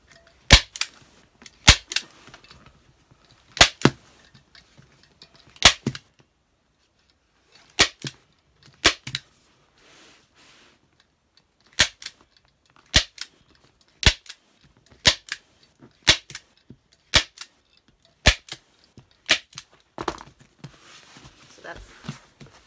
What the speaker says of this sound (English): staple it down, and then draw this back and staple